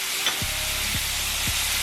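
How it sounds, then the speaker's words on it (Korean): Onion, bok choy and cabbage stir-fry over high heat, a steady loud sizzle broken by three evenly spaced low thumps of tossing or stirring. "양배추 넣어서 같이 볶아줄게요"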